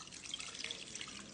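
Fruit juice strained into a bowl of water for a simple healthy dessert, dripping and trickling softly and steadily, faint and close, with no talk.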